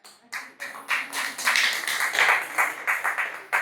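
Scattered clapping from a few men in a Tamil talk audience, a handful of uneven, fairly close claps building briefly before trailing off.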